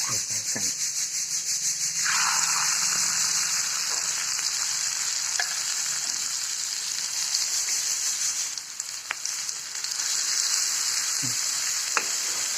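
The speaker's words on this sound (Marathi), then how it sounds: "आता हे कांदे भाजून घेतील" Onions roasting in a pan for bitter gourd chutney, with a continuous loud hiss of frying, scattered scraping and stirring sounds, and a few sharp clicks.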